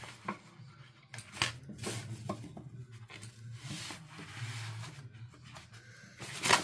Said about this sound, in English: Okay, I'm going to cut my strings